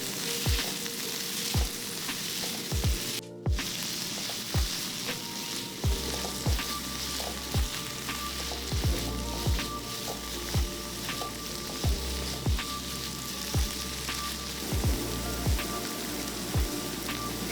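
Chanterelle mushrooms sizzle and crackle steadily in a hot pan, with periodic soft scraping taps as they're stirred, close and continuous without any talking.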